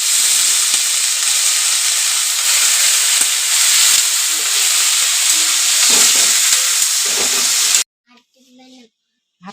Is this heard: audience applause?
no